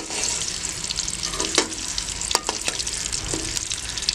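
Medium-sized potatoes fry in hot oil for Kashmiri dum aloo, giving a steady, close sizzle and hiss throughout, with a few sharp utensil clinks against the pan.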